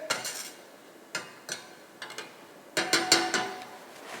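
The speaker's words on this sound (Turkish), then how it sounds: "arasını açıyoruz ve bıçağın keskin tarafıyla kazıyoruz" Sharp edge of a knife scraping seeds from a split pod, a series of short, close, dry scraping strokes in uneven bursts with pauses between them.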